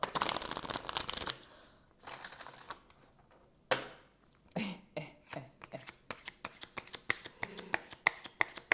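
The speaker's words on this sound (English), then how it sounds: "every time I use my cards and all of that, like, I do a closeout shuffling" A deck of cards is riffled in a long burst, then after a pause the cards snap and flutter in quick repeated bursts, close up.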